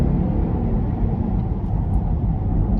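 Lexus UX 250h hybrid car accelerating hard toward the national speed limit, heard from inside as a steady, loud low rumble of road and engine noise with no talking.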